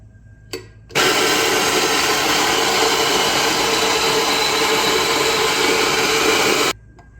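An ECM Controvento coffee grinder grinds coffee beans in one loud, steady, unbroken whir that lasts about six seconds, starting and stopping abruptly, with a faint click just before it starts and no voices.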